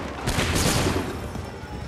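Musket volley fire in the Assassin's Creed 3 video game: a dense, loud burst of overlapping gunshots with a rumbling crackle that swells in the first second and then trails off into a sustained fading roar.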